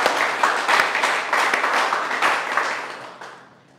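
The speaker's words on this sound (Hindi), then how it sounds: "उनके लिए जोरदार तालियां।" Enthusiastic applause from the audience at a live acting class in Mumbai, a loud continuous patter of many hands that holds steady, then tapers off and fades out at the end.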